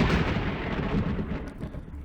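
A huge explosion in the video game Corpse Party: Blood Drive rocks the school, a loud, broad rumbling roar that stays dense and sustained before slowly tapering.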